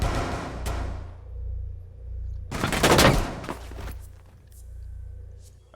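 Gunfire in an online shooter game, with a loud dense burst of shots in the middle, an earlier single crack, and a low droning game background throughout.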